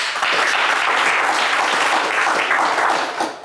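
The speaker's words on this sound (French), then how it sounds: "On va vous applaudir très fort." Studio audience of a French TV game show applauding, a dense steady burst of many hands clapping at close range, sustained throughout before tapering off at the very end.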